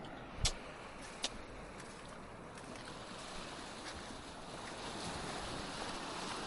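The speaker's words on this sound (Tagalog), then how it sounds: "Dito tayo sa may tabing dagat." Steady wash of ocean surf at a beach with wind noise, a couple of brief knocks near the start, continuous and moderately soft.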